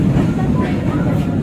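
A local Bandung Raya train hauled by a CC 203 locomotive passes close by, a loud low rumbling roar of wheels and engine with a voice talking over it.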